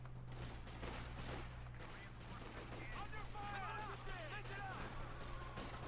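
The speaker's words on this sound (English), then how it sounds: "But that's getting hit by another 5th caliber machine gun." Rapid .50 calibre machine-gun bursts and scattered gunfire from a Company of Heroes 2 battle rattle on under a fast-talking commentator.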